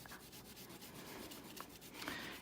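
A crayon colors a sea turtle's shell on paper, giving a faint, close, continuous dry rubbing and scratching in short back-and-forth strokes, with no talking.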